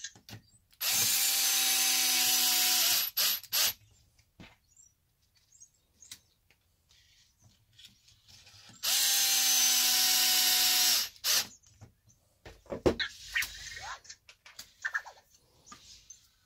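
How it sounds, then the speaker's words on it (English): Power drill driving long screws into a HoBao Hyper TT RC car lower suspension arm, two sustained whirring bursts of about two seconds each, close and loud, followed by small clicks and handling noises. "Now these had really long screws."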